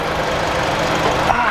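A Mitsubishi ASX with a MIVEC 16-valve engine runs at a steady idle, a close, even mechanical hum with no revving.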